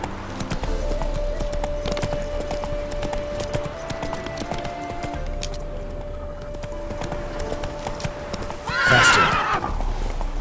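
Roach, the horse in the Witcher 3 game, drums out a steady run of clip-clopping hoofbeats before a loud, sharp neigh bursts out near the end.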